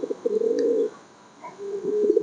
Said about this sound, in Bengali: আমার সবচাইতে ভালো কবুতর এই শার্টিন কবুতর।